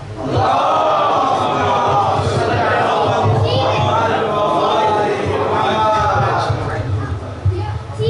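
A large crowd at a religious celebration for Syeda Zainab loudly chants salawat in unison, many voices rising and falling together in a sustained, rhythmic recitation filling the hall.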